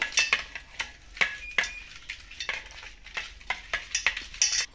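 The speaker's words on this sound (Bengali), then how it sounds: "চিংড়ি মাছগুলোকে হলদি আর নুন দিয়ে মাখিয়ে নেব" Raw prawns being mixed by hand with turmeric and salt, giving close, irregular wet squelching and clicking taps in bursts, with no talking.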